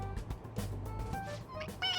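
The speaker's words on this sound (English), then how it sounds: "It meows when you press on its head." A stuffed toy cat in Persona 5 Royal gives a short, bright meow when pressed on its head, heard close and clear under game music.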